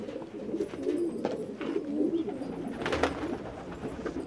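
Close by, fancy danda mar pigeons, one side white and one black, keep up a dense cooing chorus in rolling pulses, with faint clicks and rustles mixed in.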